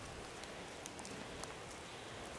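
Rain falling steadily outdoors in Corsica, a faint, even hiss of drops on surfaces with a few slightly louder drip ticks scattered through.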